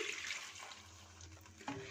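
Water from a large glass, about 300 ml, pours into a pan of frying rice on medium-low heat, a steady splashing rush lasting a couple of seconds with no talk.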